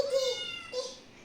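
A voice imitates a cat's meow twice in quick succession. The drawn-out, high calls are close and clear in a quiet room.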